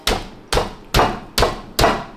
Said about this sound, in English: we're just gonna use this to try to beat the meat